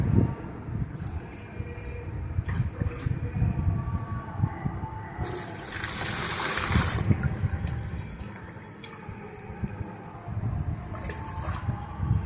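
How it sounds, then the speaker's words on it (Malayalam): Water pours steadily into a bucket while a homemade floor cleaning lotion is being made, a continuous close rushing splash that swells midway with a brighter gush and then settles, with no talking. "അടുത്ത് വെള്ളം, ഇതിനകത്ത് മാക്സിമം 4 ലിറ്റർ വെള്ളം വരെ ചേർക്കാം."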